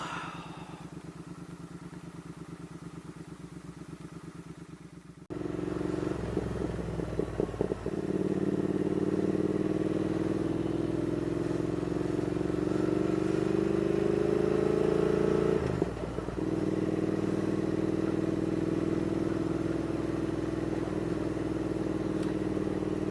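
A Triumph Thruxton R motorcycle being ridden: a steady, loud engine drone carries on throughout after a quieter start, with a few brief crackling bursts from the exhaust scattered through it.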